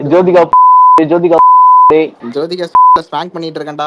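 A steady tone censor beep cuts repeatedly over profanity in Tamil speech, three loud bleeps interrupting the talking voice.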